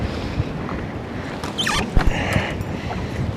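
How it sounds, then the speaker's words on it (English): Heavy, strong wind blows over open water during trout fishing from a boat, a continuous rough buffeting rush with brief gusts and light knocks from the boat. "This wind's really, really heavy. And it is a very heavy, strong wind"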